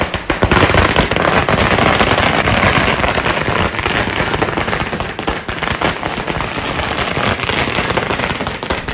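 Firecrackers bursting at an Argentina fans' victory procession in Karumbil, Malappuram, a dense, loud, continuous crackle of rapid pops throughout, with no talk.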